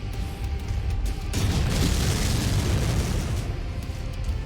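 Missile explosions in the mech combat game Mechwarrior 5, a heavy rumbling boom swelling into a sustained roar of blasts, loud and close, then easing back toward steady battle noise.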